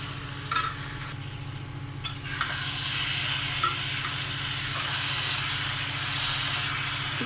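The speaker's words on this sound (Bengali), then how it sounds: "নিয়ে আমি মশলা কটা একসঙ্গেই আমি কষিয়ে নেব।" Ground chilli, ginger, cumin, coriander and fennel paste fries in hot oil with a steady hiss and sizzle, a few scraping stirs near the start, close and fairly quiet.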